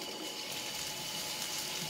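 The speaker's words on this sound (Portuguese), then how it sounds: "Eu vou adicionar a nossa água." Water poured from a measuring cup into a pot of thick meatball tomato sauce, a steady close splashing trickle running throughout with no talking.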